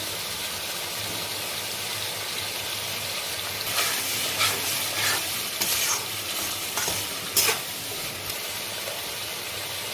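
Tomato puree and salt sizzling in a pan of soya chunk Mughlai curry, with a continuous close frying hiss and spoon scrapes getting busier in the middle.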